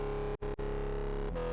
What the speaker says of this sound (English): I have tube distortion,